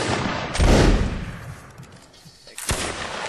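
Loud gunfire from a multiplayer shooter game during a public server event, with a heavy burst around the half-second mark that decays, then a second sharp shot near the end, with no voices over it.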